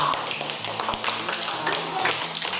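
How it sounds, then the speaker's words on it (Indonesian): Students in a classroom clap together, giving quick rhythmic claps close by. A voice hums or speaks in a pitched tone beneath the clapping. "tepuk tangan dulu untuk Novita."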